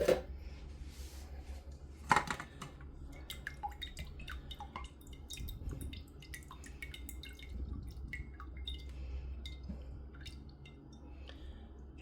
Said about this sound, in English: I'm just straining this pineapple some.